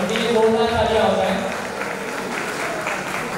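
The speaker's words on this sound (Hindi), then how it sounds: "उनके लिए दो बार तालियां हो जाए।" Audience applause at a talent hunt award show held at a resort, continuous moderate clapping with a voice speaking over it at the start before the clapping carries on alone.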